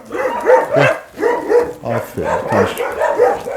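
Dogs keep barking at an unfamiliar German Shepherd found in a forest, with steady close barks throughout and someone briefly speaking between them.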